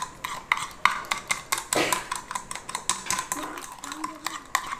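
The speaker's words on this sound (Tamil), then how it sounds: "இப்போ நம்ம இது எல்லாத்தையும் ஒரு 20 மினிட்ஸ்க்கு நல்லா இப்படி பீட் பண்ணிக்கிட்டே இருக்கணும்" Dalgona coffee mixture beaten by hand in a bowl, giving a steady run of quick clinking, scraping strokes of a utensil against the bowl, close and fairly faint, with no talk.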